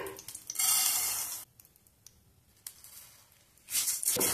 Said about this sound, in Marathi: सुरुवातीला आपण मेथी भाजून घेऊया